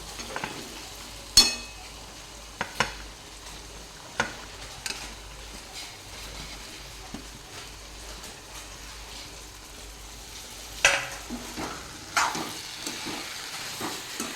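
Katwal vegetable pieces stirred into cooked moong dal in a pan, sparse spoon clinks and scrapes over a faint steady simmer and hiss, quiet and close, no speech.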